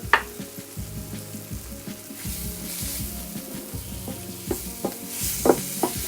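Turmeric being stirred into meatball gravy in a pan, with repeated scraping and knocking of the spoon over a soft sizzle, close and without talk.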